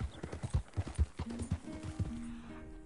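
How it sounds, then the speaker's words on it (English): Horse hooves clip-clop in Red Dead Redemption 2 in a quick, even rhythm of close, distinct strikes, followed by a few soft tonal calls near the end. "It's a frickin' horse."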